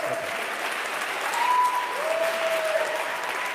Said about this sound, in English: I'll wait for the applause.